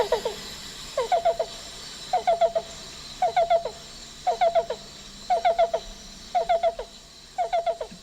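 Black-billed cuckoo calls played back from a recording: seven evenly spaced bursts of rapid hollow cooing notes, each burst of three or four notes, repeating steadily over a faint background hiss.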